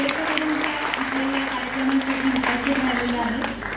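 A concert audience in Nashik applauds loudly and steadily after a Malhar raga dhun performance. A sustained tone and a voice carry on beneath the clapping.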